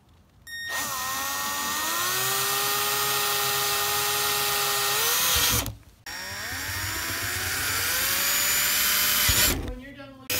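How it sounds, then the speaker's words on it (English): Power drill with a 15/32 bit bores a hole while installing a Sea-Doo Spark step wedge kit, motor whining loud and close in two long runs with a brief stop between, pitch shifting as the bit bites. "I drill a pilot hole first, so that way when I use the 15/32 drill bit, it doesn't slip away."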